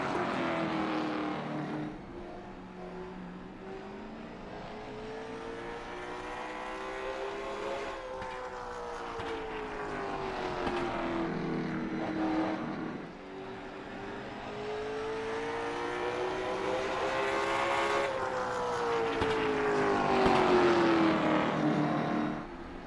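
A sim race car runs a solo qualifying lap at Martinsville Speedway, its engine droning steadily and rising and falling in pitch as it accelerates down the straights and lifts through the tight corners, loud and continuous throughout.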